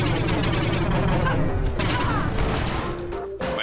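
Spread rockets in the side-scrolling game Iji burst in a loud, dense barrage of overlapping explosions and crashes, with brief electronic tones cutting through near the end.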